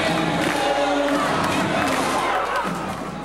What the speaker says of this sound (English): And the crowd in Glen Lake, like usual, pumped up for this one.